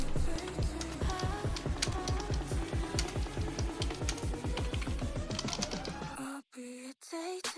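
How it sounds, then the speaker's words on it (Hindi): Typing on a Flipkart SmartBuy K931T wireless keyboard: a fast, steady run of sharp, close key clacks with a typewriter-like character, ending in a few isolated heavier keystrokes. "इसकी आवाज़ सुन के आपको बिल्कुल टाइपराइटर वाली फीलिंग आ जाएगी।"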